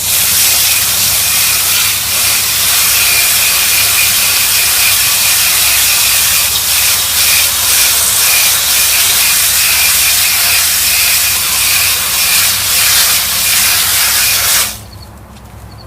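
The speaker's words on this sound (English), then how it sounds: "After you've gotten it clean, you want to rinse it down." Water spraying onto the outdoor coil of a mini split unit, a loud continuous hiss of rinsing that runs steadily for several seconds and then cuts off abruptly near the end.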